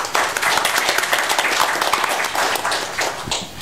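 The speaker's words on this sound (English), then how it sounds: "So I would like to ask you to give him an applause for joining us." Audience at a cybersecurity side event conference applauds, dense steady clapping from many hands filling the room, fairly loud and continuous with no voices over it.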